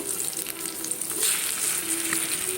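Pumpkin leaves frying crisp in a pan of hot oil, a steady bright sizzle running close and unbroken throughout, with no voices.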